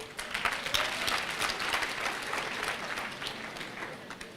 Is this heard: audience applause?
yes